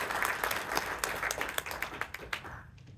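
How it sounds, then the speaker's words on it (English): A council meeting audience claps for a Public Works Department employee being recognized, a brief moderate burst of applause with individual claps standing out, tapering off after a few seconds. "let's give him a round of applause"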